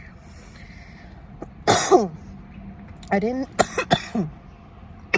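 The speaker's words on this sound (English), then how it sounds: "I just got a coughing attack so bad" A coughing attack on a road trip to Vegas after smoking a joint: a harsh burst of coughs, then a quick run of several more, close up amid quiet chatter.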